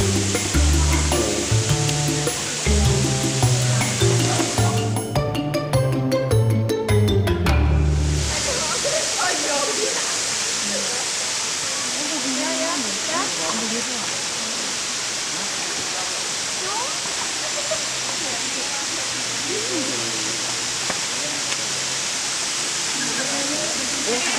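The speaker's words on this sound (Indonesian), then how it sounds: "Ini ada sini, air terjun ada sini." A waterfall at Kaliurang near Mount Merapi roars as a broad, steady rush of falling water, with a louder, busier stretch of sound early on before the continuous torrent settles.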